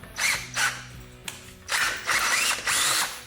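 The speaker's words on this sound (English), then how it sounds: "Plus the drill wants to kind of spit the chips out." A power drill bores into metal while repairing a shop fault, running in several loud bursts with short pauses between, its whine rising and cutting off as chips are spat out.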